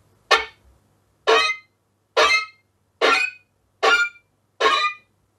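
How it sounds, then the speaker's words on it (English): Six evenly spaced, sharp percussive chops bowed on a fiddle's strings, sampled from a gypsy fiddle effects library, each a brief scratchy burst separated by silence, close and dry. "some chops"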